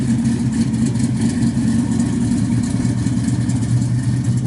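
A 1967 Chevrolet Chevelle Malibu engine revs with a deep, pounding low rumble, loud and steady throughout with no voices.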